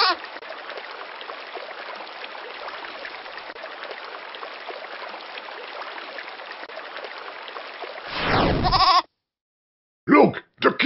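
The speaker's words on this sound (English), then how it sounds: "A goat! Obviously, the cage is locked." A video game goat gives a loud, wavering bleat near the end, followed by shorter bleats after a brief silence, over a steady rushing water-like background.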